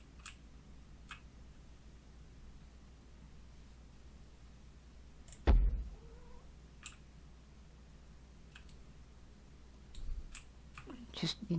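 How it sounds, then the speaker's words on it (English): A pet cat meows once near the end, a short rising and falling cry close to the microphone, after several seconds of faint ticking and a soft thump in a quiet room. "You're a nice kitty, but my God, you're a pest."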